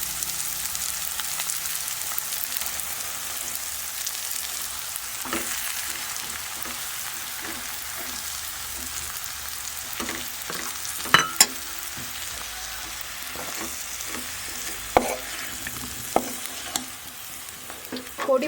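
Ground spice powder sizzles and fries in hot oil in a pan for a South Indian fish curry, a steady close hiss with occasional stirring scrapes and light clicks of a utensil.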